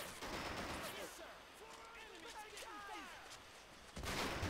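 Bofors gun firing in the real-time strategy game Men of War: Assault Squad on the Lumber map, with rapid bursts of shots at the start and end, fairly faint, and someone talking between them.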